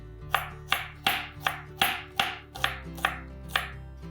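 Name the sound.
knife slicing onions for birista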